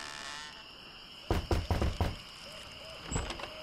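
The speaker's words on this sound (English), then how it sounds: "I think I'll knock." Knocking on a door in the pirate adventure game The Secret of Monkey Island: a quick series of about five loud, hollow wooden knocks, then one more after a short pause, over quiet game ambience.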